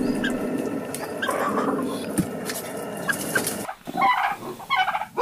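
Fowl in a countryside coop call and cluck loudly and continuously, several birds overlapping near the microphone, with a gobbling quality.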